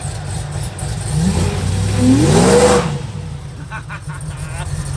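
A supercharged Chevrolet Suburban's engine revs up hard, rising in pitch for a couple of seconds before dropping back to a steady idle, with speech heard over it.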